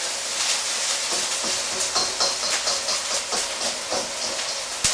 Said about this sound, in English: we're just going to stir them around the pan for a minute